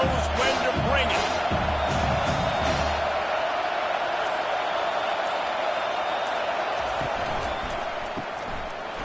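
A college football stadium crowd roars with a sustained loud wash of cheering and shouting, swelling at first and then holding steady as a dense background din.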